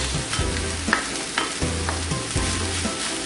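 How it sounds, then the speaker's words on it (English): Squash, onions and carrots stirred and sautéed together in a pan, with the carrots still firm: a steady sizzle broken by regular scraping stir strokes, close and alone. "We're going to mix this together and then we're going to saute this for one to two minutes."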